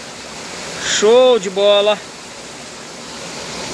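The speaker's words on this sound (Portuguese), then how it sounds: "Olha a cascata lá, ó. A cachoeira aí, pessoal, ó." Waterfall in the countryside beside a bathing pool, a steady, broad rushing hiss heard throughout, with a voice briefly speaking over it.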